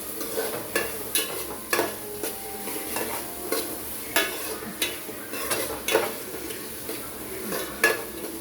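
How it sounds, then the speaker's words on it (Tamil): Onions sautéing over the flame in a hot pan for tomato rice, a soft steady sizzle punctuated by regular spoon scrapes and taps against the pan roughly every half second, close up with no talking. "அனல் வச்சுட்டு நல்லா வதக்கணும்."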